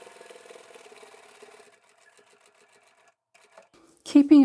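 A sewing machine stitches the outside square seam of a cutlery roll-up pouch at a quarter-inch seam allowance, giving a faint, steady whir for under two seconds before it stops and a voice speaks loudly.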